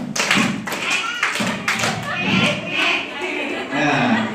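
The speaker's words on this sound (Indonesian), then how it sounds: "Tepuk 1, 2, siap" Children in a group clapping together in a set rhythm, several sharp claps in quick clusters with short pauses between, close and lively, mixed with young voices.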